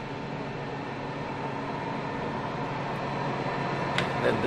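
Abekas A51 video effects equipment with its Folsom unit running, a constant whooshing fan roar and hum that swells slightly louder toward the end, with a couple of faint clicks.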